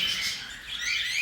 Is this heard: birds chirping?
yes